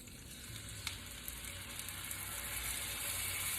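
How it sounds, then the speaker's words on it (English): Garlic and asparagus spears sizzle in a hot pan of garlic butter, a steady close frying hiss with a few small clicks, gradually building in volume and heard without any talking. "Ooh, you hear that sizzle?"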